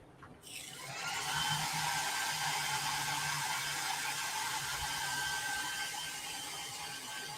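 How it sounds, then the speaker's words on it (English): Blow dryer aimed at freshly applied paint, switching on after a brief click and then roaring steadily and loudly as one continuous close-up whoosh with no talk. "hit it with the blow dryer so it'll dry."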